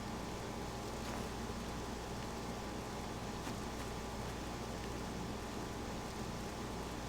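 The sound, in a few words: rain falling in a video game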